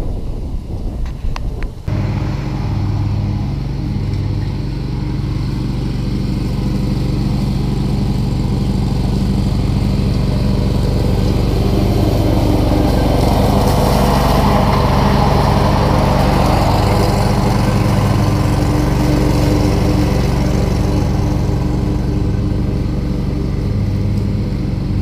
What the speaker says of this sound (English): So now it's a mulching mower. And I've got the gator blades in there